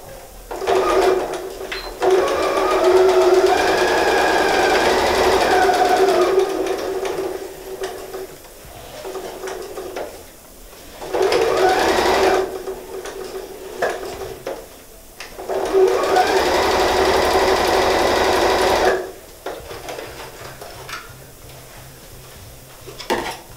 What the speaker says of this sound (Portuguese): Fazer um pesponto em toda a volta.